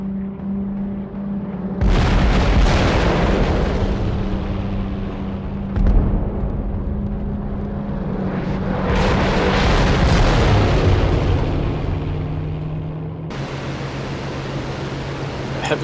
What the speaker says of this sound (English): Heavy flak coming up.